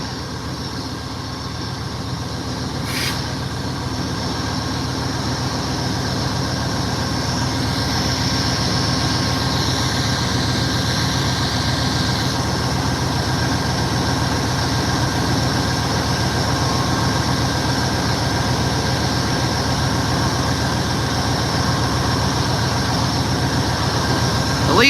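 Amtrak California Zephyr train idling at the Ottumwa, Iowa station stop: a steady, loud locomotive engine rumble with a continuous drone that holds level throughout, plus a brief clank early on.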